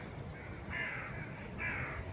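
Crows cawing in an outdoor setting where a fox sleeps nearby, two loud harsh caw bursts separated by a pause over a faint background hiss, with no talking.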